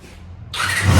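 A barn-find Honda MC19 CBR250RR four-cylinder motorcycle, unstarted for 18 years, is quiet for half a second, then its engine abruptly catches and roars up loud and close.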